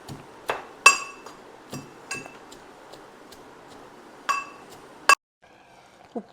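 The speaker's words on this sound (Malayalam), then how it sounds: "ഇടിച്ചെടുക്കണം, മുളകും മഞ്ഞൾപ്പൊടി, കരിവേപ്പിലയിട്ട് ചതച്ചെടുക്കണം." Chili, turmeric and curry leaves are pounded for a Kerala-style jackfruit curry, sharp hard knocks with bright ringing clinks landing irregularly about seven times before stopping, close and loud, with no talking.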